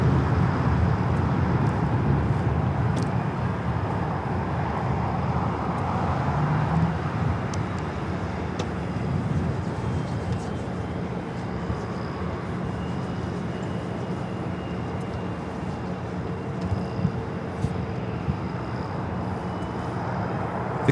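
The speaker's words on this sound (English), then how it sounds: "This is United Airlines 1431 taking off to Honolulu on the 757-300." United Airlines Boeing 757-300 taking off from LAX bound for Honolulu, a steady, fairly distant broadband engine rumble with a low hum that holds at an even level throughout.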